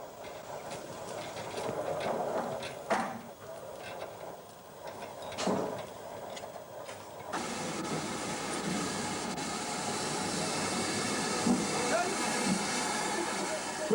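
Kitson 0-6-0 saddle tank steam locomotive simmering in a railway yard, a steady hiss of escaping steam with occasional soft knocks, with someone talking over it.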